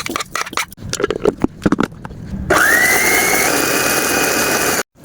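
A loud food processor chopping chili peppers whirs steadily with a rising whine after some clattering and knocks, running for a couple of seconds before stopping abruptly.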